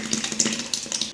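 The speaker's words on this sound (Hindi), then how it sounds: "इसमें पानी डाल के ये भी इसमें शामिल कर देते हैं" Water pours with a light splashing trickle into a tomato, onion, garlic, ginger and green chilli paste while palak gosht cooks, a close, steady flow with small bubbling bursts.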